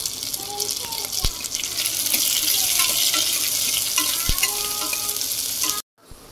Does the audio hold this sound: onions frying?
yes